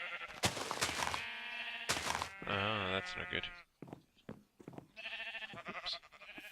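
Sheep in pens on a video game sheep farm let out several loud, wavering bleats in short bursts, close by, with someone speaking between and over them.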